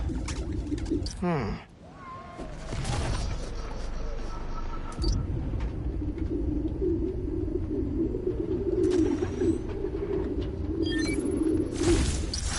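Pigeons cooing in a park, played back as a recording inside Spider-Man: Miles Morales, form a soft, continuous murmuring coo chorus with a brief whoosh early on and people talking over it.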